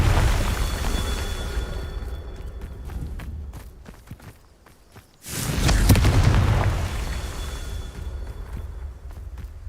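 A Confringo blast spell in Hogwarts Legacy: a loud booming burst erupts after a short quieter lull, with rumbling low energy and scattered crackling, set against steady game footsteps and ambience.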